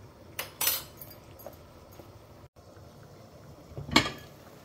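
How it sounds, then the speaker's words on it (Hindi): Water starting to boil in a cooking pot for a spinach and urad dal dish: a soft, steady bubbling hiss with a couple of light utensil clinks, heard without any talking. "देखिए, पानी बॉयल होना स्टार्ट हो गया है"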